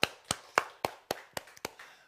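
Congregation clapping in unison during a Korean church worship service, eight sharp, evenly spaced claps in a steady rhythm, fairly faint and heard alone.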